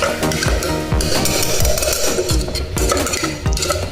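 Fenugreek rice frying in oil in a pan, stirred with a utensil that scrapes and taps the pan in a steady rhythm over the sizzle.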